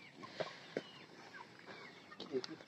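Broiler chickens cluck at a small farm, short soft calls scattered through a quiet moment, faint and close-ish with a bit of background noise.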